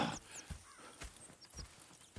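Horses in the video game Red Dead Redemption 2 clip-clopping at a steady walking pace, with quiet hoofbeats and a faint snort heard alone.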